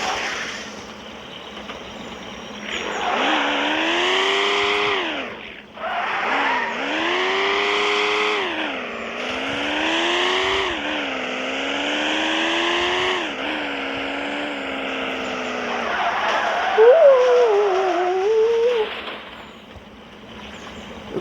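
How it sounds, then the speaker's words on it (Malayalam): A Nissan Skyline's engine revs hard and accelerates through repeated rising sweeps, each pull climbing in pitch before dropping at a gear change, loud and close, ending with a brief squealing, wavering tone. "ഒരു 90 ആകുമ്പോഴാണ് വണ്ടി സൗണ്ടിൽ കയറി പോകുന്നുള്ളൂ."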